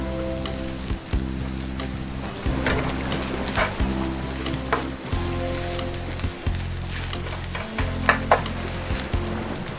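Brussels sprouts and bacon bits with garlic powder sizzle steadily in a pan, with the dull scrape and clatter of stirring repeating throughout, close and continuous.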